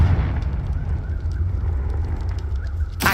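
The Confringo fire explosion spell from a video game lands as a dense, rumbling burst of fiery noise that holds strong for about three seconds and ends in a sharp crack, loud and close, with no voices.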